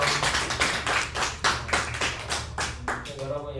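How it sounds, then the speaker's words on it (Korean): A group of children and adults claps together to welcome a new friend at a Korean Bible devotion gathering, a steady burst of close applause lasting a few seconds before fading as a voice begins to speak. "자 우리 새 친구 다시 한번 박수 인사드릴게요."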